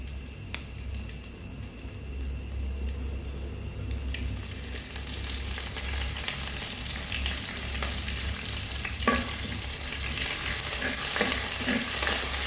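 Garlic and curry leaves crackling in hot oil for a beetroot stir-fry, a continuous sizzle that swells louder partway through when the leaves go in, with occasional sharp pops and stirring scrapes.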